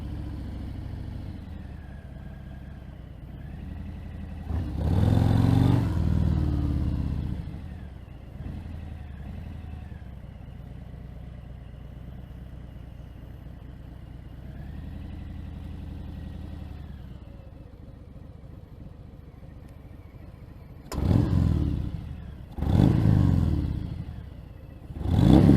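A Harley-Davidson Fat Bob 114 motorcycle with a Vance & Hines FP3 fuel pack idles with a steady low rumble, then gets a strong throttle blip, and later a pair of sharp revs near the end, close and loud.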